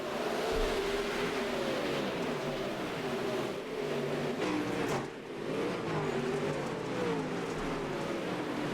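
No-limit sprint cars racing around a speedway, their engines making a steady, loud, droning roar that barely dips for the full stretch, with no voices over it.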